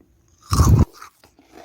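A Pokémon-themed snack dipped in milk, bitten once with a loud, close crunch and followed by a few softer chewing sounds.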